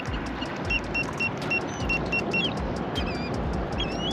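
A Garmin Force Current kayak trolling motor runs at full power on the water, a steady close whirring drone with high whining tones rising and shifting, and no voices.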